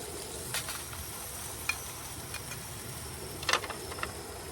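Peppers and other vegetables frying in rendered chorizo and lardon fat in a pan on a Firebox Nano Ti stove, a steady close sizzle with occasional light pops and utensil taps, no talking.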